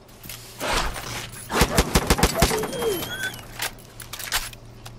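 Gunfire in the video game Far Cry 5, with a sniper rifle among the weapons: a burst of sharp, loud shots clustered in the middle, with scattered shots before and after and a voice speaking over it.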